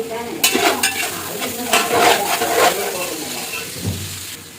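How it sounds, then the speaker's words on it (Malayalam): Onions fry and sizzle in coconut oil in a home kitchen pan, stirred with steady scraping under a continuous bright crackle, loud and close, with no talking. "അതേസമയം തന്നെ അപ്പോൾ ഉള്ളി ഫ്രൈ ആക്കുന്നതും വെളിച്ചെണ്ണയിൽ തന്നെയാണ്"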